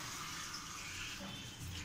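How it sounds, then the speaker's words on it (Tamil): Steady splashing pour of water running continuously into a pan of mutton leg curry, close and even throughout with no voices. "1/2 சொம்பு தண்ணி ஊற்றிக்கலாம்."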